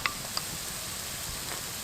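Shallots sizzle steadily in a frying pan outdoors, a close, even hiss with a couple of small pops and ticks near the start, no talking.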